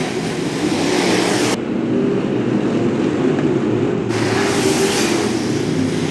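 Street stock cars race at Macon Speedway, a loud, continuous engine roar that stays steady throughout with a brief dip in brightness partway through, as if a car passes close by.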